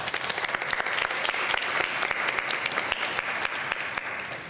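An audience at a committee event claps continuously, thanking helpers with a dense, steady round of applause from a room of people, no voices above it.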